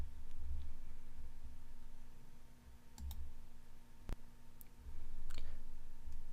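Mouse clicks in ISONAS Milestone XProtect security software land as a few sharp, isolated taps over a quiet low hum, spaced irregularly across several seconds.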